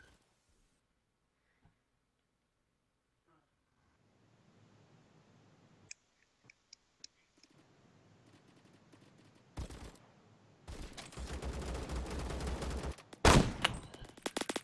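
Gunfire in the Roblox shooter Phantom Forces, quiet at first with a few isolated clicks and shots, then dense loud bursts of automatic fire in the last seconds, with no talk.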